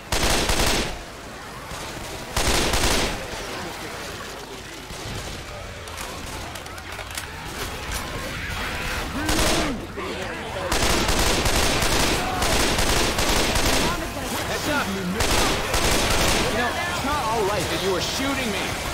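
Rapid gunfire bursts from the zombie shooter game Left 4 Dead 2 crackle loudly and almost continuously, with heavier volleys near the start and through the second half, while players talk over the shooting.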